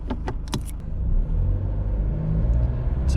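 A Nissan NP300 pulling away from a standstill in factory standard throttle mode: a heavy, close engine rumble that swells and holds steady as the vehicle accelerates, with a few light clicks and knocks at the start.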